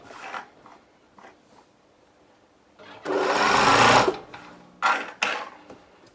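A sewing machine stitches bias binding onto a dress, with a few short bursts and then a sustained whirring run of about a second, followed by two more brief runs amid quiet handling.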